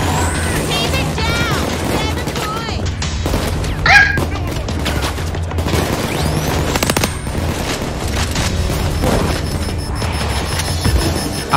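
Loud bursts and booms of gunfire and explosions in the video game Payday 2 crackle through a busy, cluttered battle soundscape.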